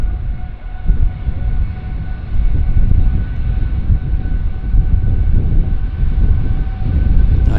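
A Boeing 777 on its takeoff roll at Vancouver International Airport, its jet engines producing a steady, distant, broad rumbling roar that continues throughout with no talking.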